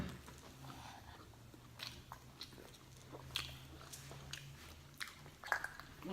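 Close, quiet bites and wet chewing of a Wendy's double-patty cheeseburger with pickles, with soft squishy mouth sounds and occasional sharper crunchy clicks spread irregularly over a low background hum.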